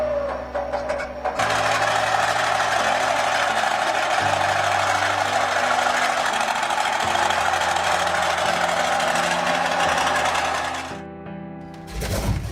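A Maybach HL230 engine runs with a dense, loud, continuous mechanical clatter of rapid exhaust pulses. The steady running shifts pitch slightly partway through, then drops away near the end.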